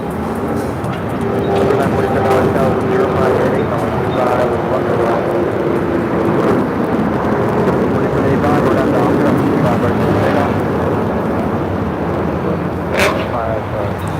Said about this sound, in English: 1394 taking off to Liberia, 737-900ER